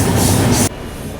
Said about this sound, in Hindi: इसके ऊपर से निकल गई अभी अपनी हमसफ़र एक्सप्रेस।